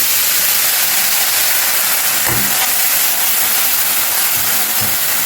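Ground onion paste added to a hot pan with turmeric, giving a loud, steady sizzling hiss that fills the whole moment, with a few soft clunks and scrapes along the way.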